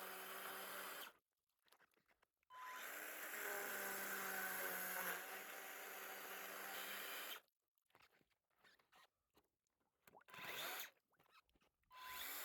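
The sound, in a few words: Makita power drill boring through pond ice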